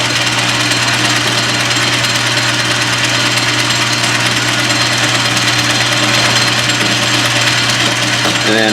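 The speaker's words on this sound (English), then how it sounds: "And then I'm just using a threading tool as a chamfer tool." A lathe chamfers a plastic screw using a threading tool, giving a steady, loud mechanical drone with constant motor hum and cutting noise throughout, no pauses.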